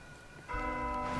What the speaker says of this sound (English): Somebody else rang the magic bell.